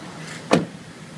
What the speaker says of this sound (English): One-touch open and closed window, and extra space there in the side.